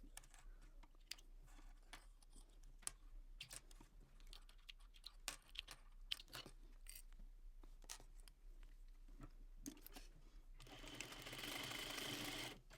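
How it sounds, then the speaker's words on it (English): A sewing machine stitches across a bag strap near a flat metal bar with quiet, uneven clicking and short mechanical runs, then ends in a louder, steadier whir. "we're going to go to our sewing machine and stitching as close to that flat metal bar here"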